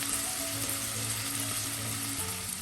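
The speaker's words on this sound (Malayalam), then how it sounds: "ലോ ഫ്ലെയിം ആക്കി വഴറ്റാം ഈ കറി ഉള്ളി വഴറ്റിയതാണ് അതുകൊണ്ട് ലോ ഫ്ലെയിമിൽ തന്നെ ചെയ്യണം" Small onions sauté on a low flame for a masala, giving a steady soft sizzle with a faint hum in the background.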